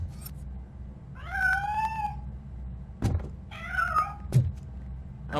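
A cat in the game RoboCop: Rogue City meows twice, clear and near, and heavy metallic thunks sound between and after the meows.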